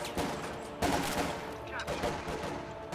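MG42 machine gun fire in the Company of Heroes 2 strategy game, a dense, continuous rattle of rapid shots mixed with other battlefield gunfire, loud and sustained throughout.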